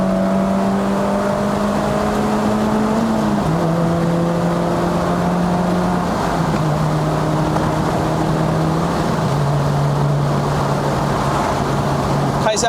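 Honda City GM6 sedan with a six-speed manual gearbox cruising at highway speed, its steady engine drone stepping down in pitch with each gear change, loud and continuous inside the cabin with constant road noise.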